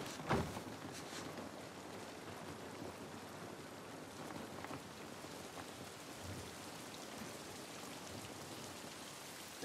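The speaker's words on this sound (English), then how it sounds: "This rain ain't gonna do us any good." Steady rain pours down in a video game outskirts scene, a dense even hiss throughout with a brief louder splash near the start and no voices.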